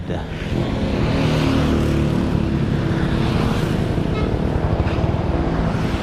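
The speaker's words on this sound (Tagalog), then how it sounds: "marami pang sasakyan na dumadaan kaya hindi tayo makatawid" Steady stream of cars passing close by on a busy road in Pangasinan, a continuous loud traffic rumble with engine drone and some wind buffeting, no gaps between vehicles.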